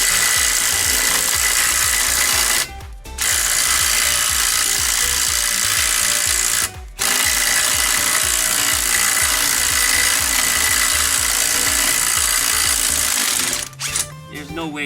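A DeWalt impact wrench hammers a nut loose on a VW Super Beetle Volksrod under crash repair. It rattles loudly and continuously in long bursts, with brief pauses between them.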